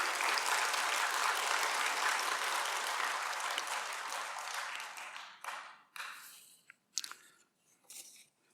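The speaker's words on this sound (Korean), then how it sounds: "박수 한번 부탁드립니다." Applause from a church audience at a talk, a dense steady clapping that holds for about five seconds, then thins into scattered claps and fades out.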